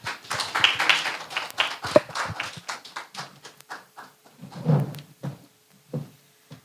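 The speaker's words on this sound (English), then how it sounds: "please give your hand and a loud applause for Miss Monel Alexis" Scattered, thin applause breaks out for poet Monel Alexis at a radio reading competition launch in Dominica, with uneven individual claps that thin out toward the end.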